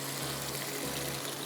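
Running water is poured in a steady, broadband wash into a pot of biryani, a small quarter-cup amount, close and continuous with no talk.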